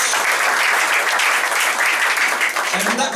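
A church congregation claps loudly and continuously in praise during a sermon, a thick, even wash of many hands with a voice starting to come through near the end.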